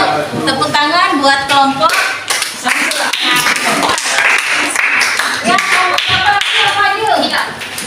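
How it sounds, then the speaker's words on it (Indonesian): A room of people claps for a group, with many close hand claps forming a rhythmic, lively patter and voices mixed in. "Tepuk tangan buat kelompok"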